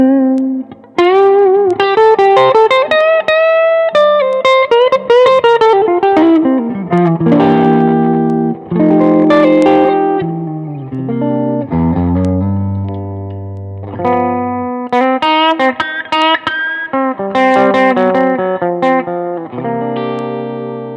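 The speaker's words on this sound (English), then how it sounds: "I increased the reverb and the main volume on this just so you can kind of hear how a cranked sound is on this amp." Electric guitar through a cranked Lil King amp with the reverb and master volume turned up, playing loud distorted riffs and sustained chords that ring out with a spacious reverb tail, with no voices.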